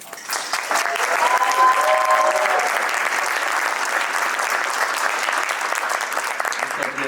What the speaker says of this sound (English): Loud applause.